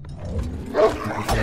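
A dog in the Game of Thrones RPG video game gives a short growling bark, one brief snarl rising out of low background game sound.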